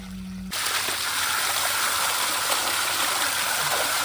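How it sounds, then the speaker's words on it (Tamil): Tap water runs steadily while goat meat is washed, a continuous close splashing stream that starts abruptly after a brief quiet moment and carries on alone. "தண்ணி கொஞ்சம் ப்ரெஷர் ஆயிடுச்சு."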